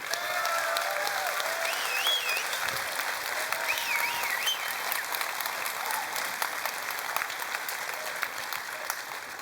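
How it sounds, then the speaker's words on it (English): An audience at Bitcoin 2021 applauds Ed in a sustained wash of clapping, with a few whistles and cheers rising above the steady roar. "I really need you guys to give Ed a round of applause"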